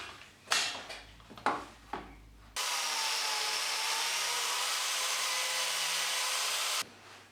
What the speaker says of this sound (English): I'm now going to cut a slot where that mark is using the biscuit joiner